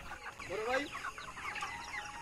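Broiler chickens about 32 days old on a poultry farm cluck and squawk faintly in a few short, overlapping bursts from a flock a little way off.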